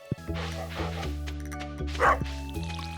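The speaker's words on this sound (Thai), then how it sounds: "อย่าเห่าสิ" Dog barking in the farming video game Stardew Valley, with repeated yips and bow-wows over a steady game music bed, moderately loud and close, without talk.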